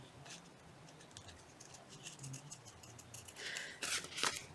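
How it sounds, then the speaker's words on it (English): Scissors snip around Christmas fabric pockets, a series of faint, close cuts that quicken and grow sharper toward the end over a quiet room. "I'm just going to trim these around."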